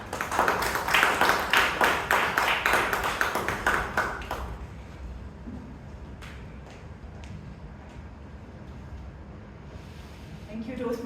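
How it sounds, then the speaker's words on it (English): A Toastmasters club audience claps for its speakers and role takers in a dense burst of applause lasting about four seconds. Quieter room sound and scattered taps follow. "let's have a huge round of applause for the speakers as well as all the role takers today"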